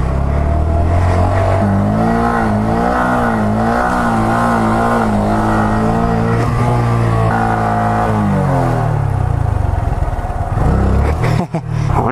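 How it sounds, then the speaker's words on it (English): Several mopeds at a stunt lot revving hard and close, their engines rising and falling in wavering pitch over a steady drone, with a sharp drop near the end. "Moped gang."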